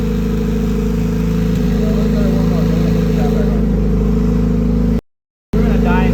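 The engine of a car called the Pink Widow runs loud and close as it warms up toward idle, with a deep steady rumble and harmonic drone. A short dropout breaks it near the end.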